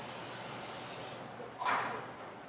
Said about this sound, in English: So I'm just going to use this coconut oil spray just to make sure that they don't stick.